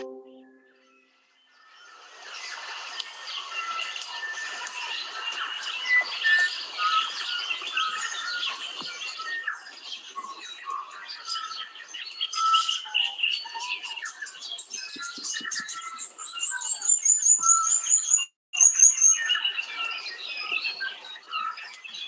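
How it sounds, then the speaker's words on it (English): A dawn chorus of many birds singing together outdoors, dense overlapping chirps, trills and whistles rising after a quiet start, with one clear high whistling call standing out near the end; no speech. "And that was a dawn chorus, not far from where I live here."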